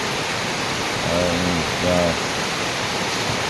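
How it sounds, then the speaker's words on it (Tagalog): Heavy rain at dawn pours down in a steady, dense hiss, with a faint voice-like murmur briefly rising twice over the constant downpour. "Sobrang lakas itong ng ulan mga kaibigan."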